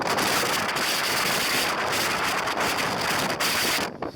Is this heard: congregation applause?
no